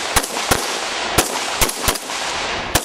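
Pistols and assault rifles fire at a police shooting championship on an outdoor range: about seven sharp, loud shots in an irregular sequence over a noisy background.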